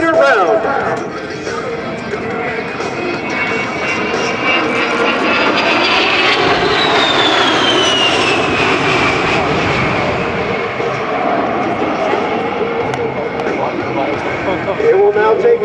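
An A-10 jet flying a dynamic display at the 2010 Singapore Air Show, its engine roar loud and sustained throughout, with a slowly shifting whine as the aircraft passes, under steady commentary.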